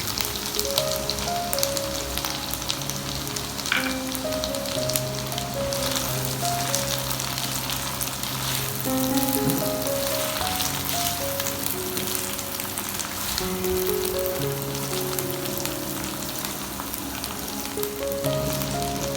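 Onions fry in a pan for a lauki chicken (kaddu gosht) dish, giving a steady, dense sizzle throughout with no talking, while a soft melodic background tone plays beneath.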